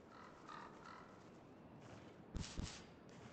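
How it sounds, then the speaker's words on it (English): Crows caw faintly in the Dragon's Dogma: Dark Arisen video game, several hoarse calls scattered over an ambient outdoor backdrop, followed by two sharper, louder bursts near the end. "I hear more crows."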